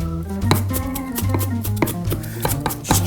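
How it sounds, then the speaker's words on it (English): A knife chops an onion on a cutting board while burgers are being prepared at home, with a run of quick, close, uneven knocks sounding over a background music bed. "Just chop up the onion real nice"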